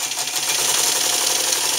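Wizard sewing machine stitching down the side of an old leather coat, a fast, steady mechanical whirring and ticking at moderate volume, heard alone with no talk.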